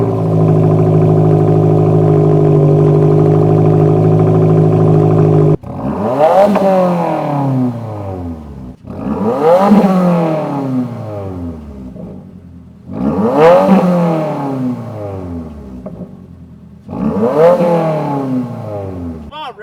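A 2024 Subaru WRX fitted with a Remark 3.5-inch axle-back exhaust settles into a steady idle after start-up, then gives four loud, close revs, each one rising sharply and falling back with a raspy exhaust note.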